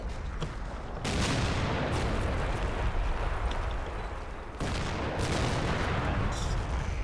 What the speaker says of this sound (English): they're just getting a bit of generalised pain from the mortars